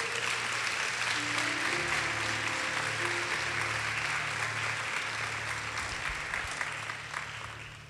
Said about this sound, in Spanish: aplaude al Señor